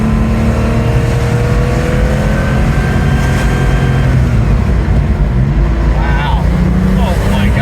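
A Porsche 911 Turbo RUF, the Widowmaker, drives under a steady loud engine drone, pulling through a lower third gear, with a voice talking over the cabin noise.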